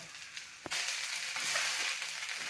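Corn dosa cooking in oil on a pan, a steady soft sizzle of frying with a sharp tap or press partway through, faint and close with no talk.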